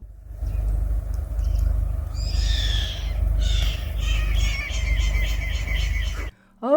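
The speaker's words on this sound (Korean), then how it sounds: "갑작스런 새소리에 깜짝 놀랐네요." Sudden harsh bird calls ring out in repeated bursts over a steady low rumble of wind or engine noise.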